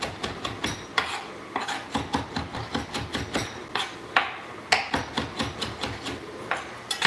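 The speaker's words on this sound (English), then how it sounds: "Let's get our cilantro chopped." A knife chops cilantro rapidly on a cutting board, sharp close taps in a quick uneven rhythm with brief pauses between bursts.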